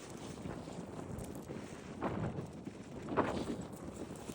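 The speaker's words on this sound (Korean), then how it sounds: "어, 바람 장난 아니야." Strong gale-force wind gusting outdoors in the Korean countryside during a strong wind warning, with steady broadband rushing and buffeting on the microphone, swelling in louder gusts.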